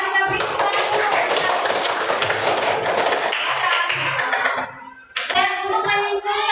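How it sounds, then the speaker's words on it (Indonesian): Schoolchildren in a primary classroom clap together in a dense, steady burst of hand claps lasting about five seconds, briefly pausing before a short resumption with voices mixed in. "Kita beri tepuk tangan."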